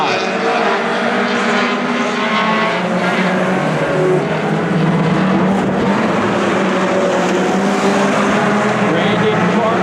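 Oval-track race cars lap in a dense, loud engine roar that holds steady throughout, with a commentator calling the action over the top.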